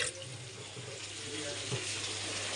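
Food being rinsed under a running kitchen tap, a steady close hiss of water into a sink with a brief clatter near the end, no talking.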